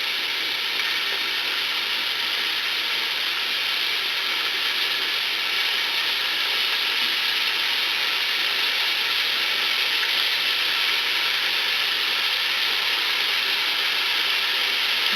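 Meat for chili sizzles in an Instant Pot with a continuous, even hiss and crackle that holds loud and steady throughout, close up and with no talking.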